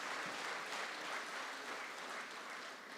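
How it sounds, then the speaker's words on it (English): An audience applauds the president at a national editors' conference in Nigeria, a steady, dense wash of clapping that fills the hall at even loudness for the whole stretch. "our dear president deserves a round of applause"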